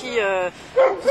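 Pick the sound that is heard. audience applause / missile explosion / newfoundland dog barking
newfoundland dog barking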